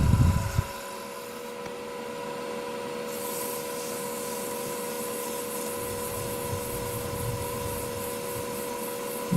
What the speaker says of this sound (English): Just using the flat scraper there just to tidy up the taper